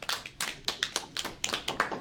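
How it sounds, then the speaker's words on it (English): A single person clapping alone at a lecture or seminar, about a dozen sharp hand claps in a slightly uneven rhythm, fairly close and with no talk over them. "you don't need to applaud yourself"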